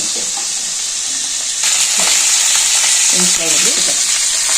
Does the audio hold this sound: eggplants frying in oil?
yes